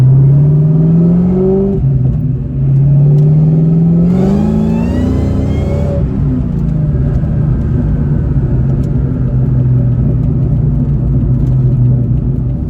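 A 2003 Cobra sports car engine revs up close and loud, pitch rising through the gears with a brief burst of wind noise before settling into a steady drone.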